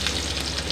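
Onions hit a large pot of whole garam masala spices for hareesa and fry with a dense, steady, close sizzle throughout.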